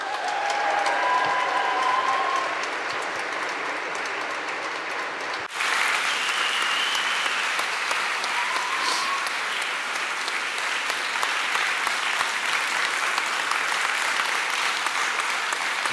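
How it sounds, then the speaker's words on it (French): Congregation at an annual church conference breaking into long, steady applause, with a brief break before the clapping resumes just as full and continuous. "Tu sens aussi le soutien avec ces applaudissements."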